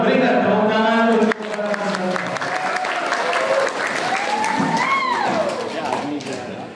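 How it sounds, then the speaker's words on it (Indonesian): A crowd claps loudly and steadily in a big room at an Islamic quiz competition final, dense applause throughout with cheering voices rising over it. "Penonton, berikan tepuk tangan untuk"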